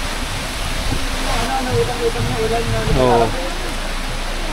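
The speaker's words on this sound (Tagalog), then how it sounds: "Nabutan pa kami ng ulan." Steady rain pouring onto the roof of a beach hut at Malagundi Point in Lobo, Batangas, a loud dense hiss throughout, with people talking over it.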